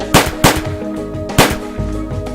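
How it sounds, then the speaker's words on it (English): Three sharp gunshot-like bangs in the visual novel game Angels with Scaly Wings, loud and close, spaced unevenly over a low steady background hum. "I heard gunshots."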